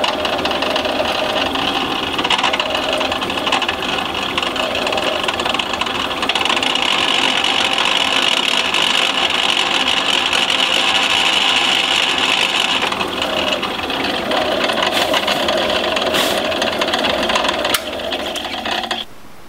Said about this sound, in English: I've put a 4 mil drill in there at the moment so we can hopefully run through the screw